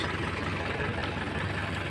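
A Mahindra 4x4 tractor engine runs in high gear in a muddy field with its rotavator detached, giving a steady, rough, close-up drone with a gritty rattle throughout.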